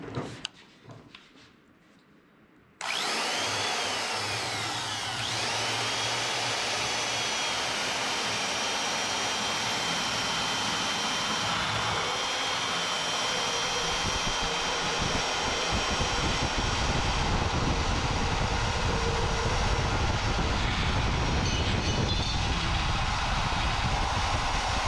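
A Delta band saw cuts five inches off a workpiece, starting abruptly after a quiet moment and then running as a loud, steady whirring drone with a gritty cutting texture that roughens toward the end.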